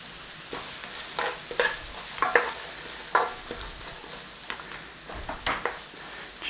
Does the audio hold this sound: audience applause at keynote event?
no